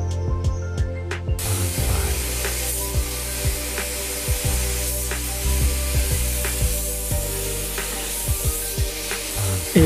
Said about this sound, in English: Airbrushing two thin layers of the rubber black color.